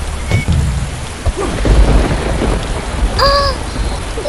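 Steady rain pours down in the video game Indian Theft Auto while deep thunder rumbles through, with a short high chirping tone near the end.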